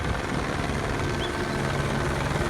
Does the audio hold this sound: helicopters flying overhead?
yes